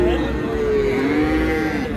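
A cross-breed calf at a busy cattle market gives one long, drawn-out moo, close and loud over a constant background murmur of crowd noise.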